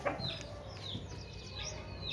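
Aseel rooster at a poultry market in Multan giving a few faint, short clucking calls over quiet market background.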